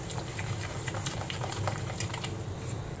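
Rava dhokla batter is quickly stirred with water, producing faint, close wet squelching and light clicking taps in a quick, irregular rhythm, with no talking.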